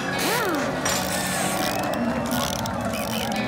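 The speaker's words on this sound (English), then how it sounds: "Blippi, the sound you're hearing is a tool called an air impact wrench." Air impact wrench used by tire changers swapping tires on a race car during a fast pit stop, with dense ratcheting mechanical bursts running continuously and loudly throughout, mixed with busy pit-lane noise.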